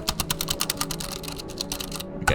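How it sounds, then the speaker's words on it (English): Rapid computer keyboard typing at close range, a dense run of distinct key clicks with uneven rhythm, ending in a louder final keystroke after a short pause; no voices. "My typing hacker noise."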